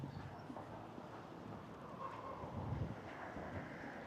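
Wind blowing on a seaside promenade at Weston-super-Mare on a morning walk, a faint, steady rumbling gust against the microphone with no other clear sounds.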